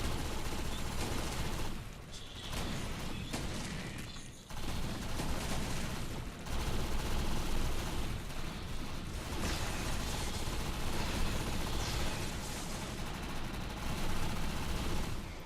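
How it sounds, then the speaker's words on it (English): Rapid automatic fire from a submachine gun in a multiplayer video game, a sustained, dense rattle of shots with brief pauses between bursts, loud and close, with no talk over it. "This submachine gun's pretty good with the recoil."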